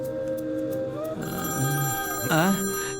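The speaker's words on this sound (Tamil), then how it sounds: "என்னடா இந்த பக்கம் பெல் அடிக்குது?" A telephone bell rings in a home, its tones sounding under music and other sound at moderate loudness across a few seconds.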